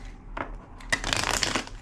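Cards shuffled for a tarot-style reading: a short riffle, a pause, then a longer crisp run of flicking cards, close and fairly quiet.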